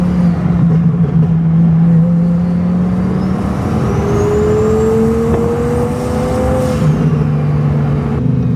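A twin-turbo Lamborghini engine revs loudly and steadily, its pitch climbing through a long pull, with a deep throaty roar filling the clip.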